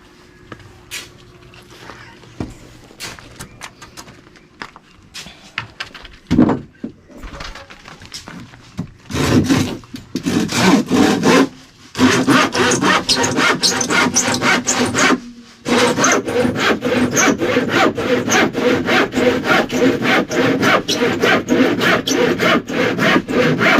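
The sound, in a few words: hand saw cutting a wooden beam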